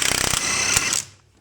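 Socket ratchet undoing an anti-roll bar bracket bolt on a 1967 Jaguar E-Type front end, with a 1/2 inch spanner holding the bolt: a quick run of close, crisp ratcheting clicks, then a brief metallic scrape that fades.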